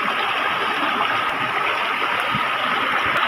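A forest stream tumbles over a waterfall during a streamside picnic, a steady, loud, close rush of flowing water that continues without a break and with no voices.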